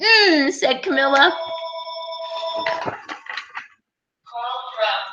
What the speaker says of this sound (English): Sorry for that phone.